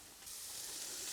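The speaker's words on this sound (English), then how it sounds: "We put in our pork belly." Pork belly hits a hot dry pan and breaks into a sudden loud sizzle, a broad steady hiss that swells after the first moment and holds, close, with no voices.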